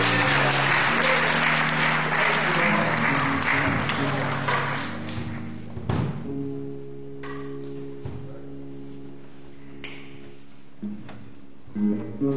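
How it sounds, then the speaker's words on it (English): Church congregation clapping in praise during a homegoing service, a loud burst of applause that gradually dies away over several seconds, leaving sustained organ or keyboard tones with scattered taps and light sounds. "can we receive them with a hand clap of praise?"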